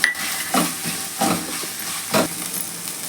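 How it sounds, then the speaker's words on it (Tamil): Small shallots and a chopped large onion sauté in a pan for a Tamil chicken gravy, a constant close sizzle and hiss broken by three or four louder stirring scrapes, with nobody speaking. "வெங்காயம் நல்லா வதங்கிடுச்சு"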